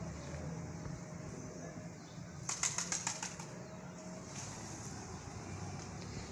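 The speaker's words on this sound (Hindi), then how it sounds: "तो ये मेरे कबूतर हैं" A brief flurry of pigeons' wing flaps on a rooftop, several quick beats clustered together, sounds against steady outdoor background noise.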